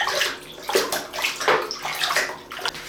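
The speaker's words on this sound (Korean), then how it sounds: "물에 넣어서 얼만큼 사용할 수 있는지 살펴보도록 하겠습니다" An iPhone 7 is dunked and moved in water, giving close splashing, sloshing bursts in an uneven rhythm with no talking.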